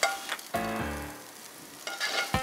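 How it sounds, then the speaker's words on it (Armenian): Olives frying in a pan for an olive appetizer, giving a steady moderate sizzle with brief tonal sounds early on. "ձիթապտուղը տապակված։"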